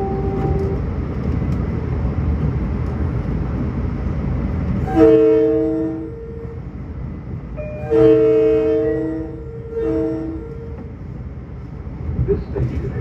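A Long Island Rail Road commuter train runs from Long Beach toward Penn Station, with a steady rumble of rolling wheels and two loud, near horn blasts midway, each a short series of sustained tones.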